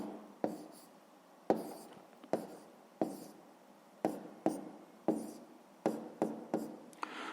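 Pen or pencil strokes on paper during a sixth-grade maths lesson, a series of short scratchy bursts with sharp onsets, close and fairly quiet, with no talking.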